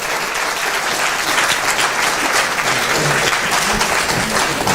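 An audience at a live music show claps continuously and loudly, a dense, sustained wash of applause that holds steady throughout.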